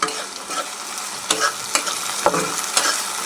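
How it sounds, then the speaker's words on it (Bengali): Onions and tomatoes with salt fry in a pan while a spoon stirs and scrapes, giving a close, loud sizzle broken by repeated sharp scraping knocks, with no voices. "পেঁয়াজের সাথে কিছু টমেটো দিয়ে দিই একসাথে হবে"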